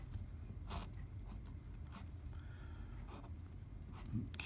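Pen strokes scratch out a chemistry reaction mechanism in short, quiet bursts separated by brief pauses, faint and close.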